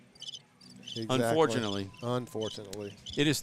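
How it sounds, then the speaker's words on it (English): Cricket chirping sound effect played in a football press box, pulsing high chirps running steadily under close, clear talk from a man. "that's the sound you get with 36-0. Crickets."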